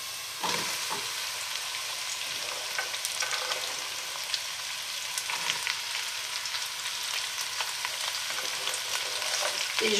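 Garlic and onions fry in a pan for a Basque piperade, giving a steady close-up sizzle with crackling pops throughout and no voices.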